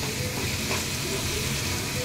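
Potatoes dropped into hot spiced oil in a pan, frying with a loud, steady, close sizzle throughout.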